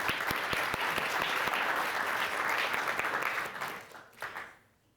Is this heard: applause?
yes